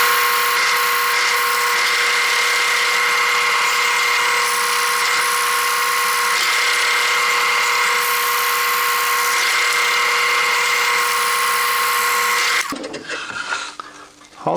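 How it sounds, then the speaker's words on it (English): A drill turning a 1-inch Forstner bit into wood, boring partway through to mark a circle: a steady, loud whine that runs continuously for about twelve seconds, then cuts off abruptly, leaving brief quieter handling noise. "now I've got a 1-inch Forstner bit in, and on the outer circle that we established, I'm just going to drill through"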